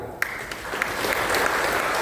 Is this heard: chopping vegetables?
no